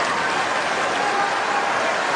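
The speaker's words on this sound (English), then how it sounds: "The crowd really into this now." Steady, dense applause and crowd noise from a tennis stadium audience at the Australian Open during a tiebreak, a continuous broadband wash filling the whole moment at even loudness.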